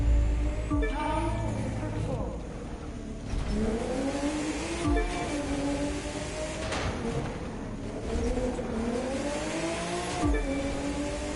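A turbocharged Porsche 911 Carrera engine in the video game The Crew 2 revs up and down through repeated gear shifts during a race in Los Angeles, loud and close, with occasional tire noise.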